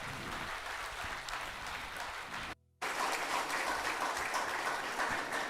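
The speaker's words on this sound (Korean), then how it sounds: "박수로 축복해 주십시오." A church congregation applauds during a Christmas worship service. The clapping is sustained and fairly even, with a brief dropout partway through before it resumes just as full.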